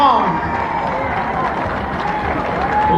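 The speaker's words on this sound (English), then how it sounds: "Give them a big round of applause" A large standing crowd at a live rock-and-roll show gives the performers a big, sustained ovation, a loud continuous wash of clapping with cheers and whoops throughout and a voice calling over it.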